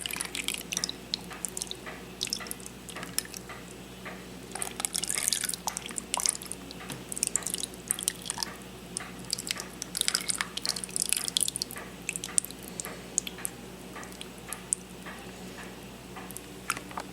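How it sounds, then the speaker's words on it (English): Italian salad dressing poured as marinade over cut deer meat in a plastic container, heard as faint, close trickling and dripping with scattered small ticks against a quiet background. "we're going to add our marinade, aka salad dressing of some sort"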